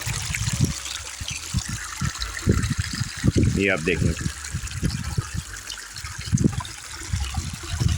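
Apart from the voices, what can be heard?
spring water stream trickling in a forest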